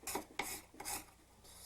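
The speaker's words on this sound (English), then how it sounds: "Sand both edges." Sanding stick rubbed back and forth along the edges of a gold ring at a jeweler's bench pin, giving three close, bursty raspy strokes of abrasive scraping.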